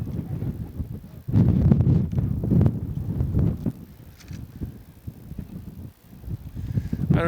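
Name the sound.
wind blowing into the microphone on a windy field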